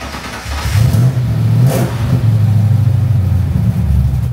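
A restomod car's engine revs through open exhaust headers, a loud, throaty low drone that swells, dips briefly and rises again, heard up close with no talking.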